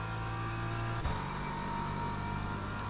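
Engine of a BMW M4 GT3 in Le Mans Ultimate at Monza, a sustained, loud droning note with a brief shift midway as it pulls hard out of a turn, no voices.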